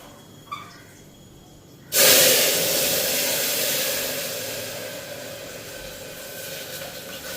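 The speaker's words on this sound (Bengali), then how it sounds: "আর ডালের মধ্যে জিরা ফোড়ন দিয়ে দিই।" Cumin seeds and dried red chilli hit hot oil for a tempering on dal, bursting into a loud, sudden sizzle after a short quiet stretch, then a long hiss that slowly fades but keeps crackling.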